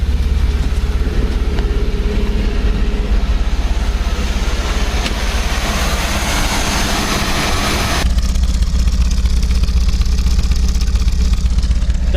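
An MGB's engine idles on choke after a carburetor rebuild, a steady loud low rumble running continuously throughout, close by, with a brief shift in tone partway through.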